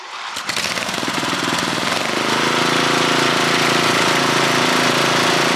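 Modified lawn mower engines in a mud tug of war fire up together, a sharp start giving way to a loud, steady buzzing drone with a rapid knocking pulse, close and unbroken.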